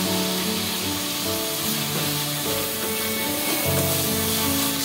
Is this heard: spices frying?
yes